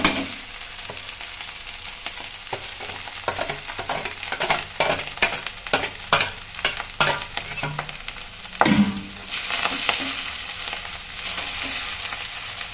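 Fried vegetables are stirred into restaurant-style fried rice in a hot pan, with steady sizzling under a run of rhythmic spatula scrapes and clinks, close and fairly loud, with no voices.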